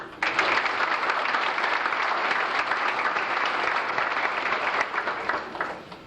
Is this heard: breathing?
no